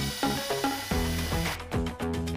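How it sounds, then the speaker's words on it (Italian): A power drill and driver work on a WPC decking finishing profile, giving several short whirring bursts followed by clicking ratchet-like screwing, close and clear. "Per fissare il profilo dovrai ancora una volta forare,"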